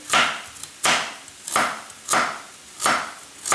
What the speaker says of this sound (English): Until the onion is sauteing, I will slice my carrots.